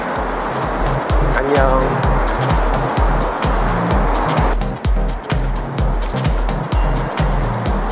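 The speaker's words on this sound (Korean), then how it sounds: "차 출발." A car pulls away outside Porsche Center Seocho, its engine drone pulsing rhythmically and loudly under people talking nearby.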